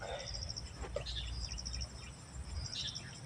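A bird calls repeatedly from a field area in Pampanga, Philippines, with short high chirps in bursts over steady insect buzzing and low background rumble.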